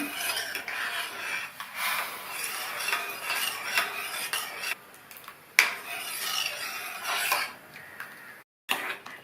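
A utensil scrapes and rubs steadily through semolina batter thickening in a pan for sweet poli, a close rasping stir with brief pauses.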